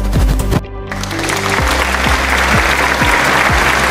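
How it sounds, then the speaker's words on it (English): Applause from a class audience welcoming a presenter, a brief cut then steady clapping, moderately loud, with a low electronic hum and periodic tones in the background. "Let's give her a warm welcome of applause."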